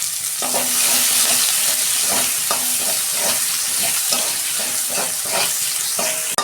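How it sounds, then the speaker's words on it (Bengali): Sliced onions frying in hot oil with black cumin in a pan used to fry small tengra catfish, a steady close sizzle broken by regular scraping stirs of a spatula, with no voices. "পেঁয়াজটা আমি ভেজে নিয়েছি"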